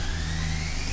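A kids' go-kart from Amazon, rated over 8 miles per hour, runs with a steady, even engine drone close up, its pitch slowly creeping upward as it gets going.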